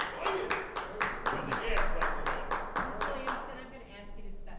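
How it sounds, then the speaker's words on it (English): A city council meeting audience claps in a rhythmic burst of about a dozen sharp, evenly spaced claps over a murmur of voices in a reverberant room, fading away at the end. "Refrain from clapping."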